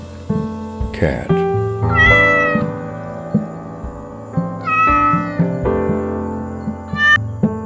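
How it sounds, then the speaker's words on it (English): A domestic cat meows several times in drawn-out, pitch-bending cries, close and fairly loud over a continuous musical backing. "cat"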